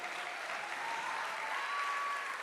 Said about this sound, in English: I think they deserve a bigger round of applause, don't they?